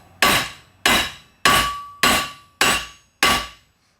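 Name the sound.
3-pound hammer beating a spoon ring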